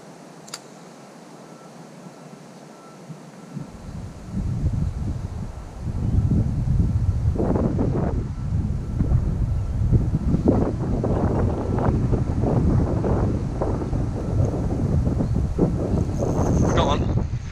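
Strong wind roars steadily against the microphone at an urban lake shore, building after a few seconds and staying loud and gusty throughout, with brief voices mixed in.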